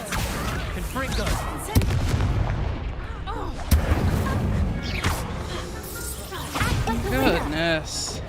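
Hogwarts Legacy combat: a Confringo blasting spell bursts among repeated booms and impacts, loud and chaotic, while game voices and a speaker's shouts overlap the explosions.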